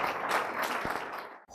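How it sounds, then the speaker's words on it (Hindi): Applause from a church audience, a dense even wash of many hands clapping at steady loudness, with a brief dip near the end. "जोरदार तालियां बजाएं"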